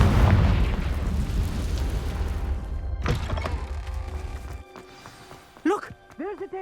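A Confringo blasting spell goes off in a video game, a loud booming explosion with a sharp burst around the midpoint, followed by quieter pops and chirping effects as the rumble fades.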